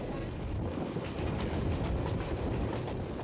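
A train rolls slowly through primeval taiga forest in Alaska, a steady low rumble and rattle of wheels on track heard from aboard, continuous and fairly subdued without any voices.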